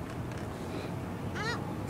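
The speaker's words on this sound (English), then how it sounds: "How do you like your meal, seagulls?" Seagulls squabbling over food: a rough, honking gull call rises clearly near the end above a steady noisy outdoor background, with fainter cries earlier.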